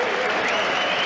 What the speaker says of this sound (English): Roger Mayweather and Efrain Nieves get a good round of applause from the crowd